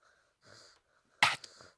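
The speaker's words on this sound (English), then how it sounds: "I think he's snoring." Sleeping child snoring, two separate raspy wheezing breaths, the first soft and the second a sharper, louder snorting rush, close-up with near silence between them.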